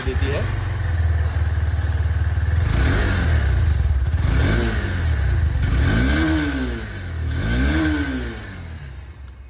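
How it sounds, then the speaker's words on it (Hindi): A Honda Hornet 2.0 motorcycle engine and exhaust rumble loudly up close, repeated throttle blips rising and falling in pitch over a steady idle. "मैं आप लोग को यहाँ पर जो हॉर्नेट इसकी आवाज सुना देता हूँ"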